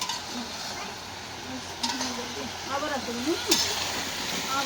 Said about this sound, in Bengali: একেবারে ভালো করে কষাই নিলাম সবজি টবজি দিয়ে